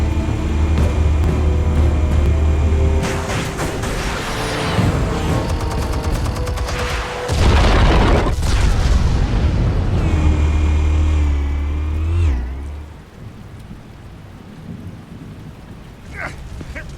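Explosions rip through a Batman: The Telltale Series scene in a loud, sustained roar with deep rumbling, a big blast burst near the middle, then fading to quieter debris and ambience.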